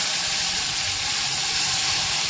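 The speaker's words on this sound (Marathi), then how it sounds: "हा एक पाण्याचा हबका मारतोय" A loud, steady hiss of steam from water splashed onto a hot pan of drumsticks, broad and unbroken from start to finish, close by with no voices.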